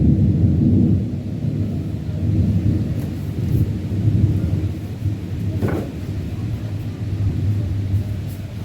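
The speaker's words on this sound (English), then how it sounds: "It is currently thundering, and that's not a good sign, so I need to turn off all my electronics." Thunder during a storm rolls as a loud, continuous low rumble that swells and fades in waves, with a steady wash of rain-like noise underneath and no voices.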